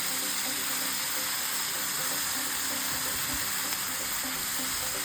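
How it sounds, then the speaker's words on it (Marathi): Hadsan leaves sizzle steadily in a hot pan while being stirred, a continuous close frying hiss with faint scraping of the spatula and no talk. "बघा अशा प्रकारे भाजी फिरून घ्यायची आपल्याला"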